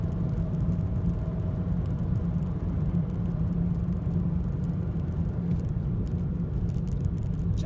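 Steady, even engine and road rumble from inside a car being driven toward a roundabout, continuous and fairly loud throughout.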